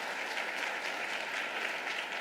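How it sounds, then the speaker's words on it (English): Steady, dense applause fills a mayor's State of the City address, the audience clapping continuously at an even level from start to finish with no voices over it. "A round of applause."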